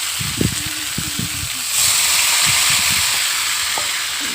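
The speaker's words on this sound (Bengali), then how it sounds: "তারপর জিরে মরিচ বাটাটা দেওয়ার পরে একটু কষিয়ে জল দিয়ে দিতে হবে।" Cumin and chili paste frying in a pan for a simple potato fish curry, a steady close hiss and sizzle that swells louder halfway through, with a few soft stirring scrapes and clinks.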